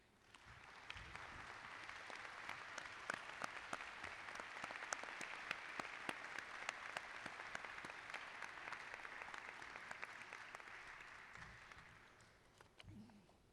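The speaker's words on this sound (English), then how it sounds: "applause." Sustained audience applause at a medical school commencement ceremony, many hands clapping steadily for several seconds before tapering off, heard at a distance without speech over it.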